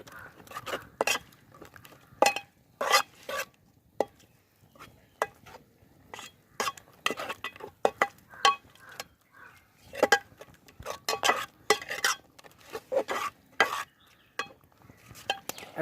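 Garam masala and spices being stirred in a pan, a spoon scraping and clinking against the metal in irregular bursts, close and fairly loud with brief quiet gaps between strokes.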